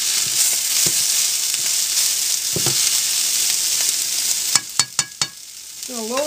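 Potatoes frying in a pan, a steady loud sizzle with a few sharp utensil scrapes and clicks of stirring near the end, up close.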